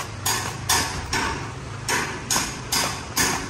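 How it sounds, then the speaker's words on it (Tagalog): Construction hammering on a farm dressing room, with six sharp, evenly spaced strikes about half a second apart, each ringing briefly over low background noise. "continue pa rin yung bakbakan ng construction"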